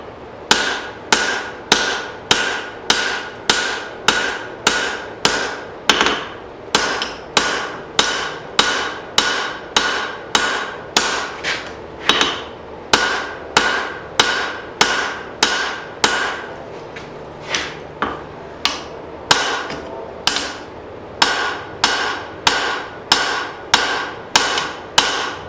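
A hammer strikes steel over and over while forging the edge of a hatchet, sharp ringing blows landing in a steady, quick rhythm with a brief slower stretch midway, loud and close.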